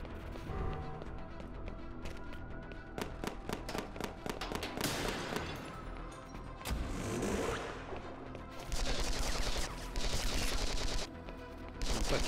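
Rapid bursts of gunfire from a shooting video game on the Nintendo Switch, repeated volleys and single shots crackling loudly over a busy game soundtrack for the whole stretch.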